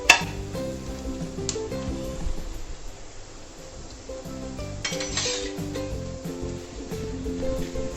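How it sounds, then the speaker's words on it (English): Garlic half-cooking in a pan while being stirred, steady soft sizzle with a sharp clink at the start and scraping utensil-on-pan sounds, close and moderately loud, no talking. "we'll stir it. We want the raw smell of garlic. We'll half cook it."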